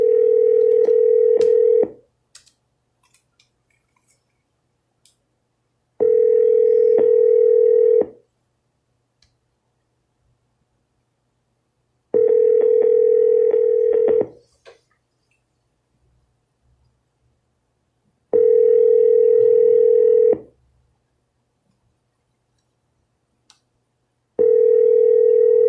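A telephone dial tone sounds in repeated bursts of about two seconds, separated by several seconds of silence, with faint dialing clicks between them, clear and close.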